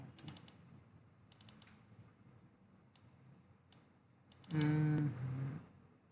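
Bursts of computer keyboard typing, quick clusters of clicks spaced apart over a quiet room while a product name is typed, followed near the end by a louder low tonal sound.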